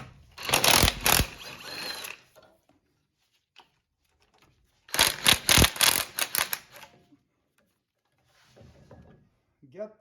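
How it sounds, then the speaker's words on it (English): Ratcheting wrench clicks come in two dense bursts of about two seconds each as caliper bolts with 17mm heads are loosened on a Toyota Tundra front brake, with quiet gaps and faint clicks between. "now we can get these two bolts holding the caliper onto the steering knuckle off"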